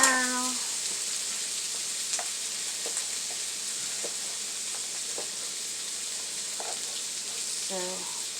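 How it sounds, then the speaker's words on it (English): Low-sodium potato and beef frying in a pan give a steady, close sizzling hiss with faint pops, and a voice speaks briefly at the start and again near the end. "So then let's let it cook for now."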